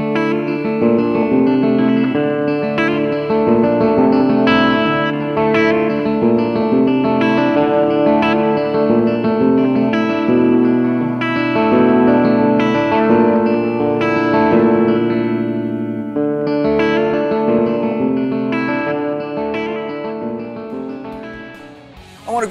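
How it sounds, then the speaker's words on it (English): A Dean ML electric guitar with DiMarzio Super Distortion pickups plays a clean tone, sustained chords and melodic notes ringing steadily and up close with light effects, alone without talk. "New patents pending ML comes equipped with DiMarzio Super Distortion pickups, just like its predecessor from 41 years ago."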